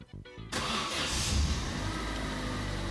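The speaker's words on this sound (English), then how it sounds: "when I start the car," A cold Vauxhall Corsa C 1.2 petrol car engine with starting problems cranks briefly with a few stuttering turns, then catches and settles into a steady, fairly close idle.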